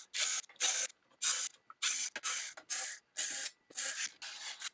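Electric screwdriver backing 2.5 mm screws out of the top plate of an FLSUN Q5 3D printer, a series of about ten short whirring bursts separated by brief pauses, close and fairly quiet.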